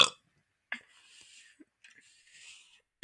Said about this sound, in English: That burp actually hurt my throat.